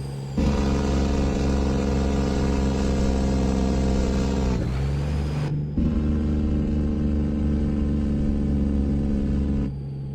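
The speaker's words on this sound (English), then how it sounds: "Now that is an aggressive jake brake." Jake brake on a CAT C12 engine mod truck in American Truck Simulator: a loud, steady, harmonic engine roar held for several seconds, dipping briefly midway before resuming, with no voices over it.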